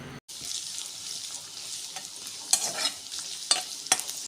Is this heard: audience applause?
no